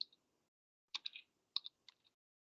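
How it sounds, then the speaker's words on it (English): Someone types on a computer keyboard: soft, sparse keystroke clicks in small clusters, quiet and close against near silence. "Like I could just type in Pac-Man code."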